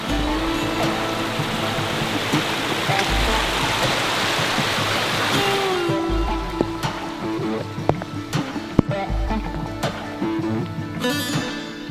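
Continuous rushing water roars at moderate volume, a broad steady wash like falling water, with a few small knocks and clicks near the end.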